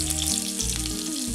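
Sliced onion rings sizzle in hot coconut oil with popped mustard seeds, a loud continuous close frying hiss with no voices.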